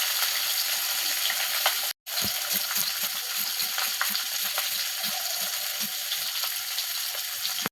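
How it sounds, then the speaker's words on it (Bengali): Fish fries in a pan with a steady, close sizzle and occasional stirring scrapes. The sizzle cuts out briefly near the two-second mark, then carries on unbroken. "মাছ ভেজে তুলে নিয়েছি"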